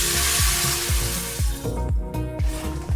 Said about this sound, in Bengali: আমি এতে গরম জল দেবো।